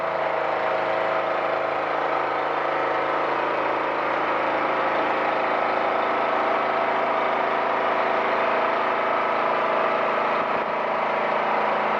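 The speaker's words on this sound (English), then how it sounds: "At this moment, I want to shut the engine off" A Bridgemaster bridge inspection lift truck engine idles in a steady, loud, unbroken drone with a mid-pitched mechanical hum, close up and without talk.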